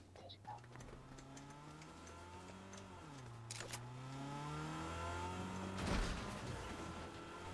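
A car with a loud non-stock exhaust revs its engine, the pitch climbing and dipping through several throttle swells, quiet and distant at first, then louder, with faint voices in the background.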